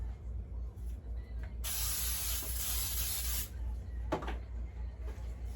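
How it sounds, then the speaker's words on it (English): A single sustained hiss of an aerosol cooking spray lasts about two seconds, followed by a few quiet clicks and handling sounds. "Give it a light spray with a pan bacon spray."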